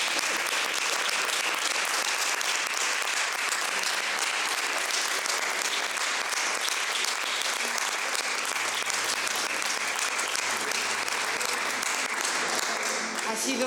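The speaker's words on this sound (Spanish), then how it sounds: "Un aplauso muy grande, ¿no?" An audience breaks into sustained applause at the close of a talk, loud dense clapping from many hands that holds steady throughout, with faint voices beneath.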